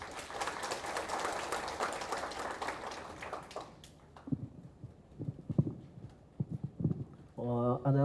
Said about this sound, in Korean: 교수님께 큰 박수 부탁드립니다